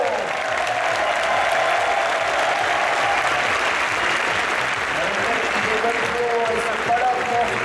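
A large crowd applauds continuously, a dense, steady wash of clapping that holds at full strength throughout, with a few whistles near the end, at the Stunfest 2015 Ultra Street Fighter 4 final.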